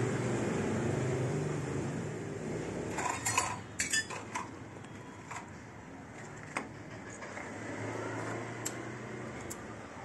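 Metal parts are removed from a Ricoh copier fuser unit, with scattered light clinks and rattles at close range over a faint background hum.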